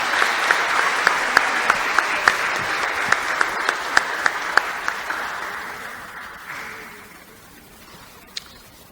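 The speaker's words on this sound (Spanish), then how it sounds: "Démosle un gran aplauso de bienvenida" A church congregation applauding steadily for several seconds, loud and dense at first, then fading out, with one last clap near the end.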